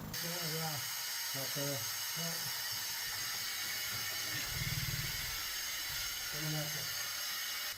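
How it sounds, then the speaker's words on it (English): A pneumatic rock drill with button bits, fed by an air compressor and run with water at a gold mine, roars as a loud, continuous hiss, with voices cutting in now and then. "We're using button bits and air compressor. The drill uses some water."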